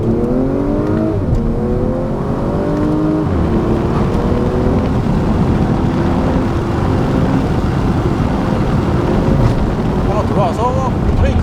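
A 2022 Audi S4 TFSI engine revs hard and climbs in pitch, dropping briefly at each automatic gear change at the redline, with road and wind noise roaring throughout.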